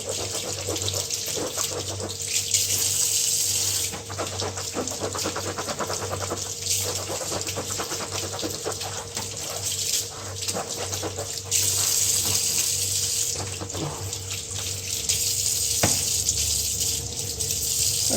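Running tap water splashes steadily over heavily soiled goalkeeper gloves being rinsed in a sink, a continuous close hiss and patter with small shifts as the gloves move under the stream.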